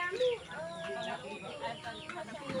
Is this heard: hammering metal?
no